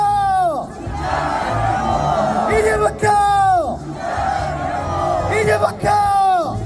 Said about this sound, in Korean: 구호 한번 외치도록 하겠습니다.